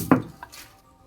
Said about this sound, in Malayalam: ആദ്യം നമ്മൾ മുളകും ഇച്ചിരി ഉപ്പും കൂടെ വെച്ച് പുളിയും കൂടെ വെച്ച് അരയ്ക്കാം.